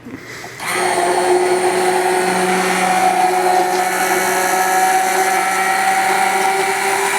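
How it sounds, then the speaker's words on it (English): A blender kicks on after a brief pause and runs with a loud, steady high-pitched whir, close up. "now, back to the original blender. Let's try this again"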